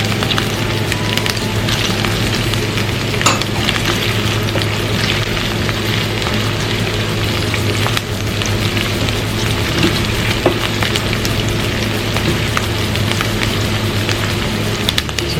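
Onion and garlic sauté in hot oil in a pan for Filipino chicken afritada, a steady dense crackling sizzle with scattered sharp pops and a low hum underneath, continuous and fairly loud throughout.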